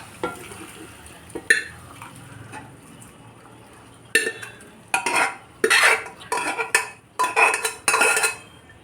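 Cooked rajma beans are tipped into a pan of tomato masala and stirred, with quiet stretches giving way to bursts of loud, close scraping and clattering from about four seconds on.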